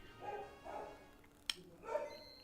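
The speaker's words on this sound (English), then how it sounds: "You can hear the dog go bork." A dog gives a few soft, muffled barks and yips in the background, with one sharp click partway through.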